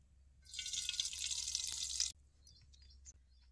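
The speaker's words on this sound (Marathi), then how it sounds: "कढई गरम झाली, आता जरा तेल ओततो की." Oil poured into a heated brass wok over a wood-fired stove makes a faint, steady hissing sizzle for about a second and a half, then cuts off, leaving a few light clicks and a low background hum.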